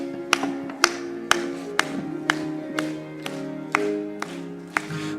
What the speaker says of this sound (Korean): 우리 힘차게 박수하면서 부르겠습니다